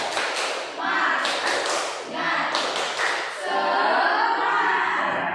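A class performing the rhythmic 'tepuk semangat' clapping chant, many hands clapping in quick patterned bursts mixed with voices chanting along, loud and close in a classroom.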